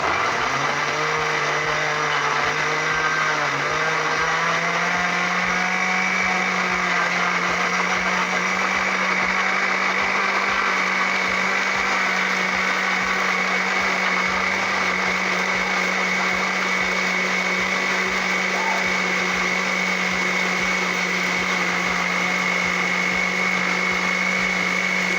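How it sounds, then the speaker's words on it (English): Blender on a steady puree setting working through one onion and one pepper, a loud continuous motor whine that rises in pitch in the first few seconds and then holds constant, close up, with no talking. "Blending time. I'm going to put it on puree."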